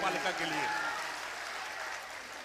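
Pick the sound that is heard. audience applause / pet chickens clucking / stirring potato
audience applause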